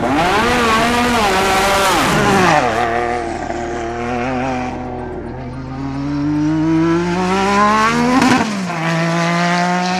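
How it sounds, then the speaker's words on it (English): A 1980s Williams FW11 Formula One car's turbocharged Honda engine roars loudly with rising and falling pitch through gear changes, briefly dipping before surging again, close and continuous. "Today we've been shaking down the Williams FW11 with a Honda turbo engine."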